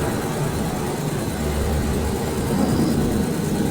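A truck engine runs steadily in a cartoon scene, a continuous low rumbling drone that holds at an even, fairly loud level throughout, with no voices over it.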